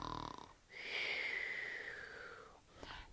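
A storyteller's voice imitates a child and a puppy snoring: a short breathy snort, then a long rasping, wheezing snore that fades, followed by a faint breath.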